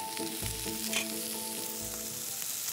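Sea bass fillet frying in a hot pan, a steady close sizzle and crackle of oil running throughout with occasional light scraping, no voices.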